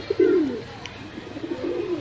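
A pigeon's low, soft coo rolls out near the start and returns more faintly later, with faint background murmur; a purebred bred pigeon.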